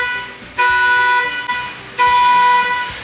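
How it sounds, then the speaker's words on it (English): A car wash gantry gives two loud, sustained horn blasts close by, each lasting about a second, separated by a short pause. "The gantry will honk at you 3 times and then start moving to reset itself."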